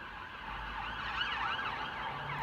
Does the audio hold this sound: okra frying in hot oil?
no